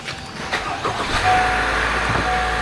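A 2024 Honda Accord engine idles steadily nearby with a low, constant hum, a few brief clunks and whirs at the start as it settles after a jump start.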